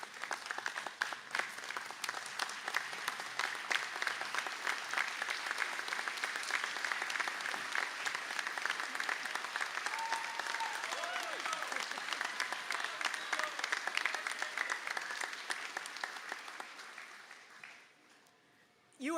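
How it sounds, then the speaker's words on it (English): Graduates at a Sligo conferring ceremony applaud their supporters in a long, steady round of clapping from a large hall crowd, fairly distant and even, tapering off near the end as a few voices surface. "maybe give them a little round of applause"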